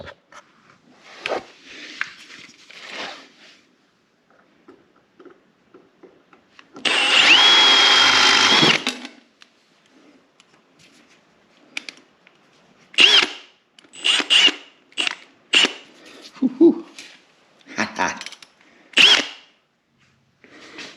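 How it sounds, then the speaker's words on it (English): A power drill bores out rivnuts on an Arctic Cat Thundercat snowmobile belly pan, with one loud sustained whine of about two seconds, then a series of short, sharp bursts separated by quiet gaps. "And then you gotta drill those two out."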